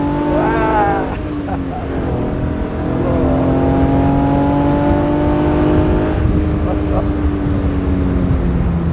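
A 1971 Fiat Dino 2400 Spider with Ferrari-derived engine pulls hard from inside the cabin, its note rising steadily through a gear change. Someone speaks briefly over the strong, continuous drone.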